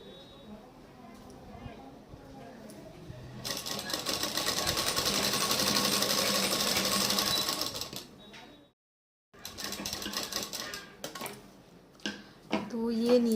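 Fast, dense whir of a sewing machine stitching a front-slit gown, running for several seconds up close, then a brief silence and a few short stop-start bursts with handling noise, a voice talking in places.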